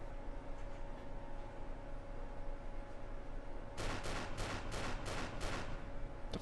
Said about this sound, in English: Something shooting from down by the coast.